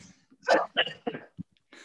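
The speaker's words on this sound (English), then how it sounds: "I'm just going to cough here" A few short, close coughs in quick succession, sharp and throaty, followed by brief breaths and quiet.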